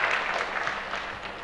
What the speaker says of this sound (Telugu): విజయభాస్కర్ రెడ్డి గారికి మనం అందరం చప్పట్లు కొడదాం